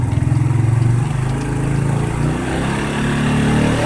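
A motorcycle engine is held at high throttle, a loud, steady close-up drone with a rapid pulsing beat that rises slightly in pitch toward the end, with no talking.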